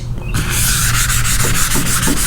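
Hand wet sanding of primer on car bodywork, a steady close scratchy rubbing with rhythmic back-and-forth strokes, loud and continuous with no talking.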